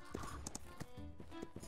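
A horse in a video game clops its hooves in a quick, short burst of close, uneven hoofbeats.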